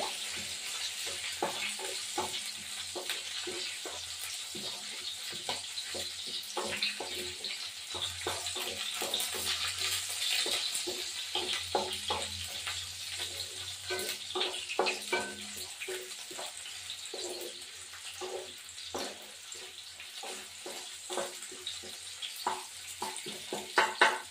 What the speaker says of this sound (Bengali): এবার ভাজা ভাজা হবে।